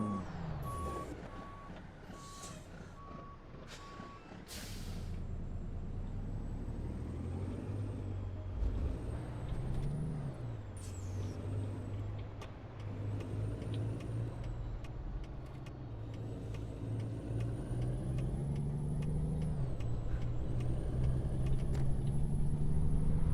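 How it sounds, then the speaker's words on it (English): Kenworth W900 tri-drive truck with a twin turbo engine in a driving game, a steady deep engine drone that builds over time, with reversing beeps at first and air brake hisses. "You can still hear the twin turbo in this"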